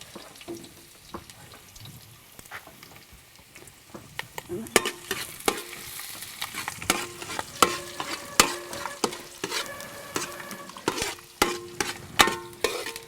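Mustard seeds, ginger, green chilli, curry leaves and garlic fry in hot oil with a steady sizzle, while a spoon scrapes and clacks against the pan in quick irregular strokes.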